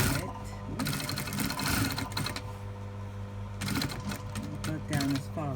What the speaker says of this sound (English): where I've ironed it, I'm going to stitch into it.